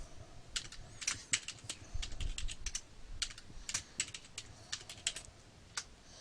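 A password is typed on a computer keyboard in quick, uneven bursts of light close key clicks, with short pauses between runs and no talk.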